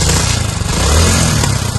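A stolen motorcycle, started by pulling its ignition pin, runs loud and close in a short, steady, throbbing engine burst.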